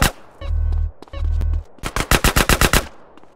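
Automatic gunfire in the video game GTA San Andreas: two sustained bursts of rapid fire followed by a quick string of about eight loud, separate shots, close and alone without talk.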